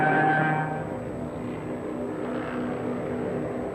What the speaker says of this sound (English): The most notorious was the Junkers Ju-87 Stuka dive bomber.